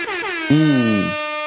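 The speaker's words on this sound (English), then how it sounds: "And I'm going to give air horn" A loud air horn blast sounds twice in quick succession, the second longer and sustained, a brassy blaring tone close by.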